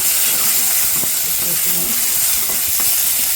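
Curry leaves fry in hot oil for a spicy Tamil puffed rice snack. The sizzle is steady, loud and close, a dense crackling hiss with a few soft stirring knocks and no voices.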